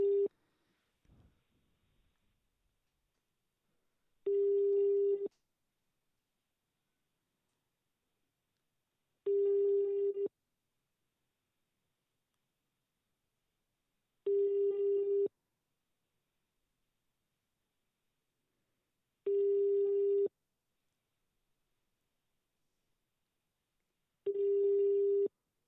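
A telephone call fails to connect with a busy signal, a steady tone repeating in one-second beeps about every five seconds over nearly half a minute, clean and isolated in silence after a brief faint noise at the start.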